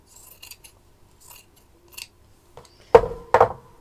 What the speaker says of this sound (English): I can cut off the excess of this decorative printed silk.